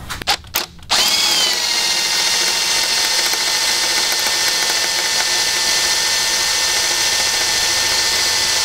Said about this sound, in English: You need a very sharp drill bit.